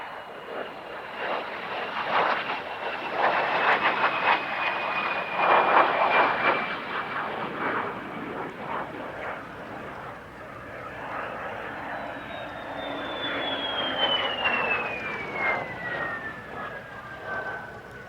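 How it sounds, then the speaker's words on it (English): A de Havilland Vampire T11 jet trainer passes overhead at an airshow, its steady turbine roar swelling and fading with a rising and falling whine, sustained and moderately loud against open-air ambience. "Time now for a very rare airshow performer, Mark Hooton's Vampire T11"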